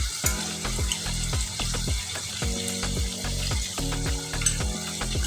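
Minced meat keema, with mint leaves and turmeric, fries in a pan while being mixed, with a steady sizzle and rhythmic scraping strokes about twice a second, close and clear; no one talks.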